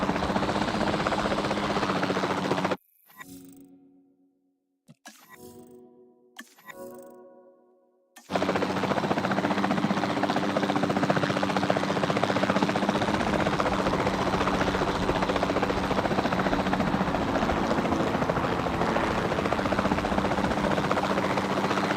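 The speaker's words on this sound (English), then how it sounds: "Then the sensible thing is to take a capture team helicopter." A capture team helicopter flies in Jurassic World Evolution 2, its rotor drone loud and continuous, cut out sharply for several seconds by a few abrupt gaps before returning at full strength.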